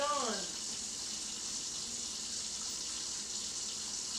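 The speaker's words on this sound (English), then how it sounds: "I know the water is really loud too" Water gushes steadily from a tap during handwashing at a sink, a loud continuous broadband rush that fills the whole clip, with a brief voice-like tone at the very start.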